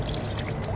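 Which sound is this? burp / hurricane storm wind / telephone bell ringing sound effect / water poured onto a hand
water poured onto a hand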